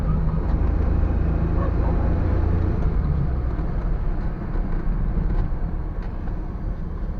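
A 1986 SS80 car is driven in second gear, giving a steady, loud, rumbling engine and road drone heard from inside the cabin with no talk.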